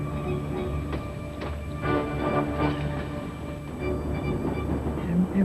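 A train travels on rails with a steady low rumble and faint rhythmic clatter of wheels, a continuous moderate drone throughout with no talking.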